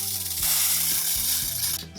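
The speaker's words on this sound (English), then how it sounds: "I'm going to spray it on my hand" A spray bottle of foundation mists onto a hand up close, with a steady hiss and a few regular pump clicks.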